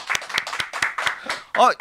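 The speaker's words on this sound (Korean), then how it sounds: "다시 한번 큰 박수 환영해 주십시오." A studio audience on a Korean political talk show claps to welcome a lawmaker guest, with a quick run of sharp, fairly regular claps up close and a voice breaking in at the end.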